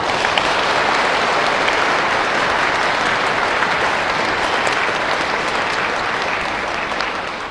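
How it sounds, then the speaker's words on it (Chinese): An audience at a formal event claps steadily and loudly to welcome a professor onto the stage, a dense, continuous applause that tapers off only slightly at the end. "掌声有请"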